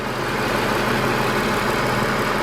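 Idle of a Jaguar XF's 3-liter V6 engine with direct injection, a steady, fairly loud hum with a fine ticking texture running throughout, no voices.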